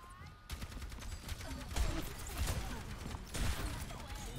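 Gunfire in the video game Overwatch 2: rapid bursts of shots and impacts with heavy low thumps, dense and continuous, mixed with mechanical clicks and game effects at moderate loudness.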